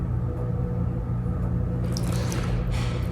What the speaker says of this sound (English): I'm just gonna ladle some in this cup right here. Along with some of the broth.